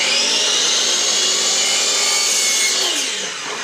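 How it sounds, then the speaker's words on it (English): A miter saw cuts a small piece of crown moulding with a loud, continuous high whine throughout, then the tone drops and fades as the blade spins down at the end. "You can stand it up or lay it down in the saw, it doesn't matter."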